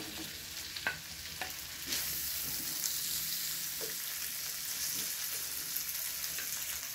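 Sliced ham frying in a pan with garlic and onion for a corn and cream dish, with a few stirring scrapes at first, then a steady close sizzle that runs on with occasional spatula knocks.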